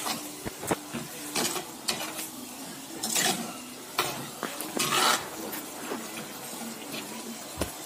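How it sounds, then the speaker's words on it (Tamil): Red ponnanganni greens sauté in a pan with a steady sizzle, punctuated by repeated scraping spatula strokes at an uneven rhythm. "கீரை நல்லா வதக்கியாச்சு"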